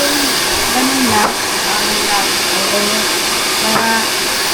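Handheld hair blower running steadily with a loud, continuous whooshing roar; a voice talks faintly under the constant airflow noise.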